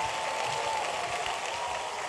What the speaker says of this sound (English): Give the Lord the biggest clap offering of triumph